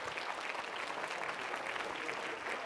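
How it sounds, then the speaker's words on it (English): A conference audience applauds a team standing up to be recognised, a continuous, fairly soft patter of many hands clapping throughout, with no speech over it. "give them a round of applause"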